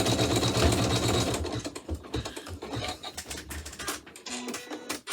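Embroidery machine with a hoop stitching a design in black thread, rapid steady needle chatter that gives way to sparse clicks and clunks as it finishes, close by, no talking.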